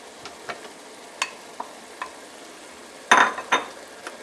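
Tomatoes dropped into a thick, cooked-down curry paste in a hot pan, giving short scattered sizzles and a louder burst of frying and stirring near the end, with no talking.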